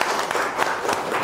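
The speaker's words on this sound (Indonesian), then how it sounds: "beri tepuk tangan untuk kalian semua" Students applaud in a classroom lesson, a short burst of scattered, quick hand clapping at moderate loudness and close by.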